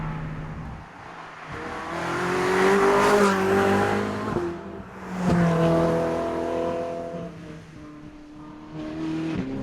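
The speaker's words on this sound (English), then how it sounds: "what you get more than anything is the soundtrack of this sensational V8 and its crazy exhaust system" A Ferrari 458 Spider's V8 engine revs and roars loudly, its exhaust note rising and falling through the gears, with a brief lift-off dip midway before surging again.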